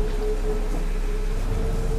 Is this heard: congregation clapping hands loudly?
no